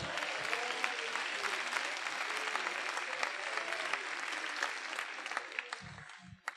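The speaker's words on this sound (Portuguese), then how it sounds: "Aplauda o nome do rei aí, rapaz." A church congregation applauds in a large cathedral, a steady, dense wash of clapping hands that carries on for several seconds before fading near the end.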